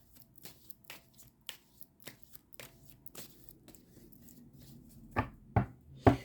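Oracle cards being shuffled by hand: a series of crisp riffling and tapping bursts at irregular intervals, growing louder toward the end, close and without talk.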